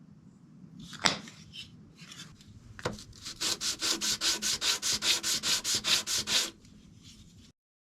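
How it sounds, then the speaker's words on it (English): A maple wood ring box is sanded by hand, starting with a few scattered scrapes and knocks, then a run of about fifteen regular back-and-forth rasping strokes, close and distinct, ending abruptly in quiet. "Time to sand."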